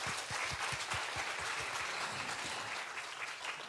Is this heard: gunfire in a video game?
no